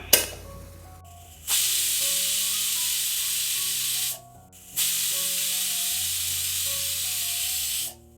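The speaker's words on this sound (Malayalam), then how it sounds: "മീഡിയം ഫ്ലെയിമിൽ ഇതിപ്പോൾ ഒരു 2 വിസിൽ വന്നിട്ടുണ്ട്" A pressure cooker on the stove lets off two long, loud, steady steam whistles, each a sustained hiss lasting several seconds with a short pause between them, while Pav Bhaji masala cooks inside.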